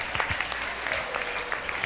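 Audience applause at a local beauty pageant, a soft, distant patter of clapping from a crowd, brief and fairly faint.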